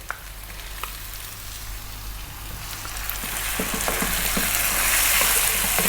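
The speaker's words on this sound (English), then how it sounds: "And then we're going to add 2 cups of tomato." Lamb curry frying loudly in a pan with tomatoes just added, a steady crackling sizzle that swells and grows brighter over several seconds, with a few stirring scrapes near the end.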